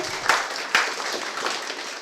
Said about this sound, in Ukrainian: Дайте Марині трошки оплески